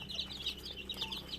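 Two-week-old Rhode Island Red and native chicks making rapid, high, faint peeping chirps in a quick continuous chatter over a low background hum.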